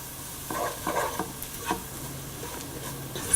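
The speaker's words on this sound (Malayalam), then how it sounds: "കുരുമുളക് പൊടി, മസാലപ്പൊടി, മുളക് പൊടി എന്നിവയിട്ട് നന്നായിട്ട് വഴറ്റുക." Pepper powder, masala powder and chilli powder sautéed in a pan for mutton curry, giving a soft continuous sizzle broken by several quick stirring scrapes, close and fairly quiet.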